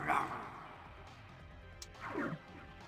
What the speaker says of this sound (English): I lose my will to read these lines every time I have to listen to these fucking growls.